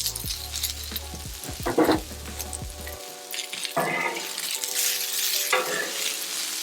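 Red peppers and green beans sizzle on a Blackstone griddle, a loud, close hiss with scraping and tossing strokes, rising in bursts as the vegetables are stirred and turned on the hot flat-top.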